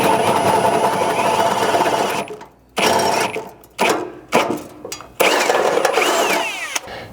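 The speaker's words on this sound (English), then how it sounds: "I like to start with a 1/2-inch drill bit like you see here" A power drill boring a half-inch hole during a Ford Maverick gas tank skid plate install, running in several loud bursts with brief pauses between them.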